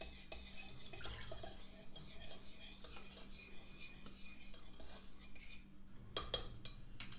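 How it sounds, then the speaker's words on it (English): A spoon stirs balm of Gilead cottonwood salve ingredients as they melt in a pot, with soft continuous scraping and occasional light clinks against the metal, fairly close and steady. "giving it a little stir"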